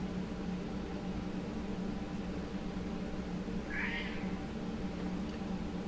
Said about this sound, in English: Did you hear that desperate meow?